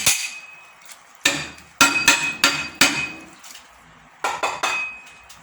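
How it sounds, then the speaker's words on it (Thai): A cleaver chops pork on a board for sausage, a series of loud ringing thwacks in uneven bursts with brief pauses between groups. "เสียงนั่นเมีย สับหมูจะทำไอ้ไส้กรอก"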